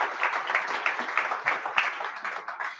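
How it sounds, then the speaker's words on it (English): A symposium audience at a state and national service event claps together, a steady, fairly loud patter of many hands with small swells, lasting the full few seconds without speech over it. "Please give him a round of applause."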